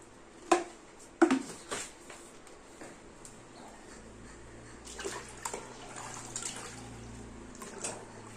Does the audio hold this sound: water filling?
yes